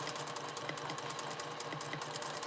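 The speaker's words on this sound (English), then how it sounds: "I'm gonna try to see can I still do free motion quilting." A sewing machine runs steadily during free motion quilting, a fast, even mechanical whir with a regular stitching pulse, close and fairly quiet, with no talk.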